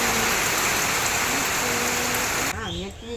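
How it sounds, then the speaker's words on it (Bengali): Steady heavy rain hisses loudly and evenly, then cuts off abruptly near the end, where a voice briefly speaks. "দেখো আজকে একটু পর পর বৃষ্টি আসছে"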